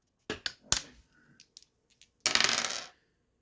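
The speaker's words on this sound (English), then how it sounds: "let us go ahead and roll the dice" Dice tossed onto a hard surface at a tabletop, a few sharp clattering impacts followed by smaller ticks as they settle, then a longer rattling tumble, close and alone without talk.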